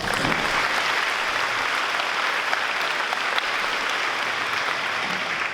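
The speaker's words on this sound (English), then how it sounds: "So let's give Jerry a big round of applause." Sustained, dense applause from an audience welcoming a speaker at a community presentation on drugs and alcohol, steady and full throughout with no voices over it.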